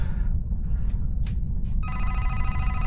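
Inside a horror video game set in a haunted hospital, a telephone starts ringing partway through with a bright, sustained electronic trill, loud and close over a constant low game rumble, after a few faint whooshing noises.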